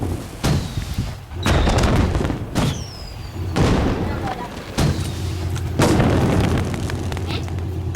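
Fireworks burst in a series of loud, sharp booms roughly every second, each with a short rumbling tail, while voices talk faintly between the blasts.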